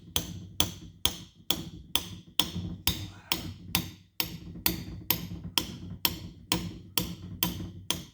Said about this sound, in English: I'm going to tap it as far forward as lightly as I can until it stops.